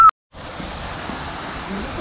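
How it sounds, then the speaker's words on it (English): A steady, broadband rush of falling water, like a waterfall heard from nearby, continuous and unchanging after a brief moment of silence. "Waterfall."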